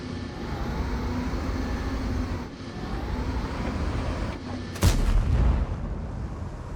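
A tank cannon fires once in World of Tanks, a single loud blast about two-thirds of the way in that rises above a constant dense roar of engine and battle noise.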